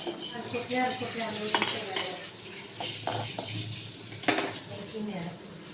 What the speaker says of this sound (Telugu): మినప్పప్పు ధనియాలు ఫ్రై చేసుకోవాలి